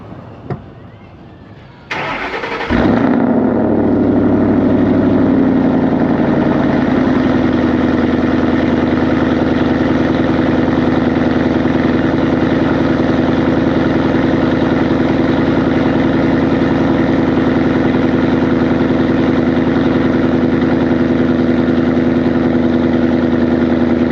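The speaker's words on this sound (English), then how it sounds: "I'll let you hear a cold start on both cars" Cold start of Ford Mustang 3-valve and 5.0 V8 engines: a starter crank, then the engine catches with a loud roar and settles into a steady, high, even idle that holds for the rest of the clip.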